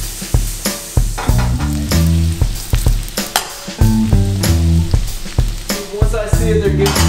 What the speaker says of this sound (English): I'm just trying to get them translucent, I don't wanna burn them. I just wanna get them going in the pan, you know?